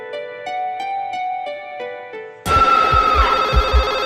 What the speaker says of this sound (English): The movie begins with a phone ringing